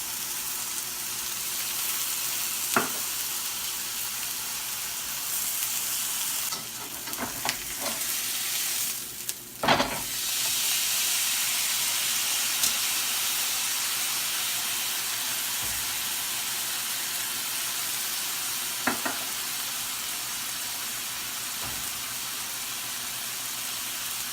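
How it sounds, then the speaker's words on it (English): A steak sears in a hot pan with a splash of Worcestershire sauce, giving a constant close hiss that flares into a louder burst midway, with a few faint clicks and no voices. "We're going to let it cook for 30 seconds each side."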